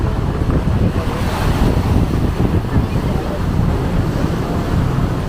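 Strong wind and ocean surf roar continuously on a bridge by the Pacific at the Puerto Vallarta Malecón, loud and close, with heavy wind buffeting the microphone throughout.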